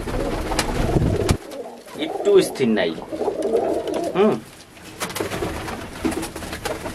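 Domestic pigeons coo in a low, throaty burble, several birds overlapping close by, with wing flaps and a voice speaking over them.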